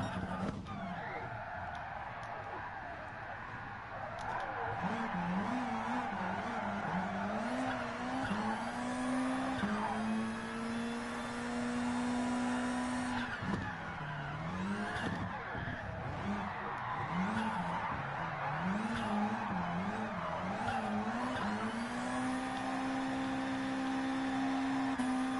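Car drifting in Gran Turismo Sport: a high revving engine wails and rises in pitch while tires squeal in long sustained screeches, with brief drops between slides and a continuous loud motor drone throughout.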